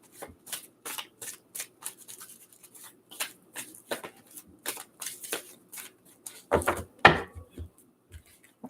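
Tarot or oracle cards are shuffled close up in quick, uneven riffles and soft slaps, closing with a few louder knocks and taps.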